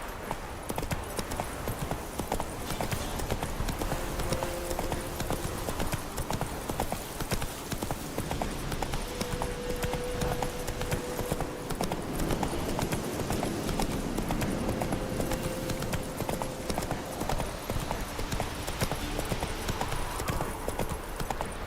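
Horse hooves galloping in The Witcher 3, a continuous rapid clip-clop rhythm under a steady game soundscape, with faint whinny-like tones now and then.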